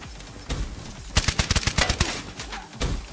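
A rapid burst of gunfire and blasts in the video game Black Ops 3, a quick rattling run of close, loud reports after a heavier thump.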